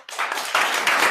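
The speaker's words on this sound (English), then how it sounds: "I guess one round of applause for our speaker." Brief burst of audience clapping after a high energy physics talk at a university lecture, a dense close patter of many hands swelling in waves over about a second.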